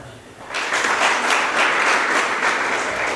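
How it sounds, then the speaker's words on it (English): An audience at the Akatamanso Fair breaks into applause, the dense clapping starting abruptly after a brief quiet moment and then holding steady and fairly loud to the end. "I think you will applaud him for that"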